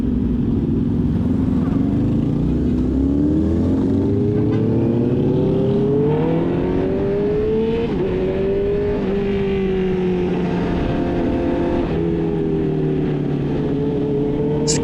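A 2024 Honda CB650R with an aftermarket exhaust accelerates hard, its loud high-pitched engine note climbing through the gears with brief dips at each shift, heard up close from the rider's position.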